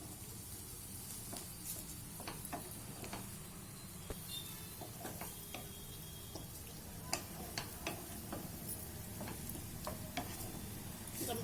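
Bottle gourd curry with milk simmering on a low stove flame while being stirred: faint, gentle bubbling under scattered light clicks and scrapes of a spoon against the pan.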